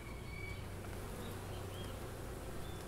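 Honey bees at an open beehive hum in a soft, steady, continuous buzz with no pauses, fairly faint and with no voices.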